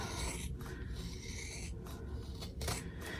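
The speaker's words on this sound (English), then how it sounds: "I'm using pretty heavy-duty scissors because this is a lot of layers." Steady rasping and crunching as heavy-duty scissors chew through thick layers of fabric for an in-the-hoop zipper bag, with a few brief pauses between cuts.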